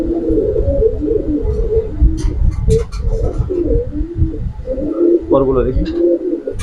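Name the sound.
pigeons cooing while being handled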